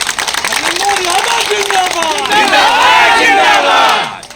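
A large crowd roars and cheers at a late-night political rally gathering in Azamgarh, a loud continuous swell of massed voices with shouting that builds and peaks before fading at the end.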